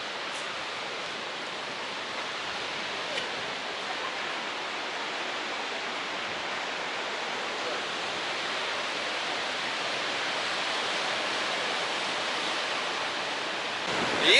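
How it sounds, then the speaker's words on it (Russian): Sea waves surge around a huge pier jutting into the sea, a continuous broad wash of surf with no distinct breaks, steady and slowly swelling louder toward the end. "Если вам не хватает шума волн, вы всегда можете прогуляться по пирсу"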